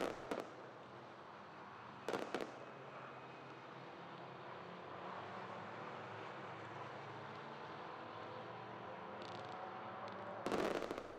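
Fireworks burst at the close of a 12-hour VW Fun Cup endurance race at the Mettet circuit, with a few sharp crackling volleys near the start, middle and end over a steady low rumble of crowd and track noise.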